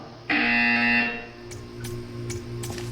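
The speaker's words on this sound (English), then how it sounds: "You will hear a buzzer. When you hear the buzzer, stare at the art." A Portal 2 test-chamber buzzer sounds once, a loud steady electronic tone lasting under a second, followed by a low ambient hum with faint clicks.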